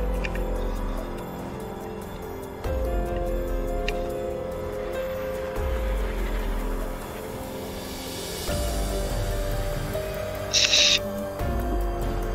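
A bird in ARK: Survival Evolved gives repeated hooting calls at regular intervals over steady game ambience, with no talk.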